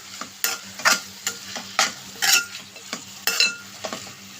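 Amaranth leaves seasoned with turmeric and salt are stirred in a hot pan, with about a dozen distinct scraping, rustling strokes falling in an uneven rhythm over a soft, constant sizzle.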